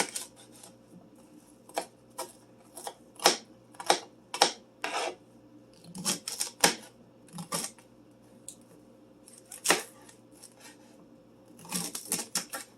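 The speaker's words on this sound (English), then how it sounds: "Using a sharp knife, you can cut 3 to 4 celery stalks at the same time." A sharp knife chops through three or four celery stalks at once on a cutting board, giving a series of crisp, uneven crunching cuts that are close and fairly loud with short pauses between them.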